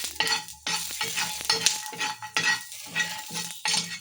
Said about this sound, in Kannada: ನಾನು ಎಣ್ಣೆ ಹಾಕ್ಕೊಂಡು ಫ್ರೈ ಮಾಡ್ತಿದ್ದೀನಿ